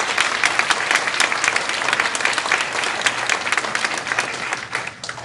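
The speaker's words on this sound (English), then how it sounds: "Give him a round of applause." A round of applause breaks out at a county school district board meeting, a room full of hands clapping steadily and loudly for about five seconds before tapering slightly at the end.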